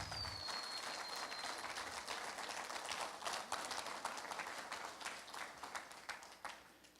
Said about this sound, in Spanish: Den un aplauso a Jesucristo